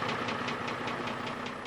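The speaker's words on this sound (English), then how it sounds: "It's a decrepit, clapped-out diesel engine bus." An old, clapped-out diesel bus engine converted to run on natural gas idles with a steady, rough knocking rhythm, loud and close, with no voices.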